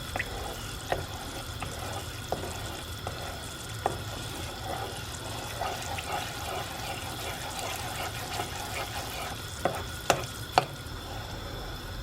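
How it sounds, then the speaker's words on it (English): Sugar caramelizes in a pan for semolina halwa, a soft, even hiss running throughout, with occasional faint stirring scrapes and light clicks. "we need to caramelize this sugar, making it brown, and make sure don't burn it"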